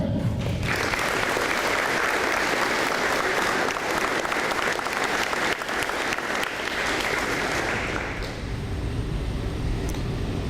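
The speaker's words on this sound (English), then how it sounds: "The clapping has stopped, but the celebrating continues." Audience applauding at a school apprenticeship signing day, a dense steady round of clapping that carries on for several seconds before thinning out near the end.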